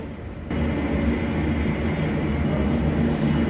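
A plane lands at Dutch Harbour Airport, a broad steady engine roar that rises suddenly after a quieter start and stays loud and constant to the end.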